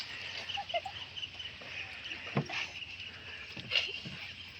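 Gentle water sloshing and paddle splashes from a small wooden rowing boat in the evening, with faint bird calls and a steady background hiss.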